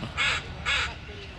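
A crow caws twice at the beach, clear, fairly close calls spaced about half a second apart over faint background noise and a quiet voice.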